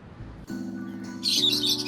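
Small birds chirp near the beach in Hulhumale, Maldives, a bright cluster of calls rising toward the end over a steady low background hum, moderately close.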